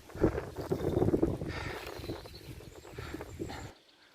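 Gusty wind buffeting the microphone in low rumbling bursts, strongest early on, then easing before cutting off abruptly near the end.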